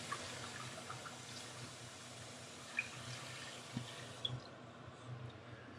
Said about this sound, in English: I'm gonna put a pot with cold water